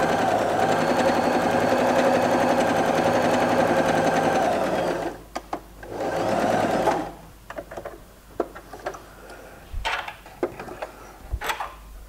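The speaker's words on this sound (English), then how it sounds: "So I can do regular stitching." A sewing machine runs a regular straight stitch with conductive thread, buzzing steadily for about five seconds, pausing, then giving a short second burst followed by scattered clicks and taps.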